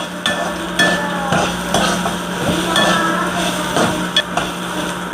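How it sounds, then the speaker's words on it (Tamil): Brinjal sautéing in sesame oil in a pan for kothsu, a steady frying hiss close by with repeated clattering stirs and scrapes of a spoon throughout. "அந்த ஒரு கத்திரிக்காயை நல்லா வதக்கிக்கோங்க"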